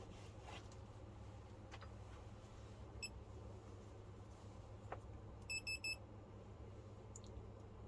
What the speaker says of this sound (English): Let's make life easy and put on the buzzer.